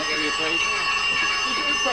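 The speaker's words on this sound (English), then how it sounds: "Cut the fire alarm a minute, will you please?" A shop's fire alarm rings continuously and loudly, a steady electronic tone under the sound of people talking.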